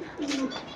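A single soft pigeon coo at a home loft, one short low throaty call close by with a quiet background.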